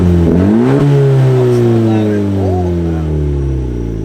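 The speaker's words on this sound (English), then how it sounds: "No, come on, actually give it a rev." A Honda Civic Si fitted with a race exhaust revs hard, climbing through a loud, close rising engine note and then settling back to a steady idle, with people talking over it.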